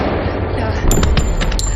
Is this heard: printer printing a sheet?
no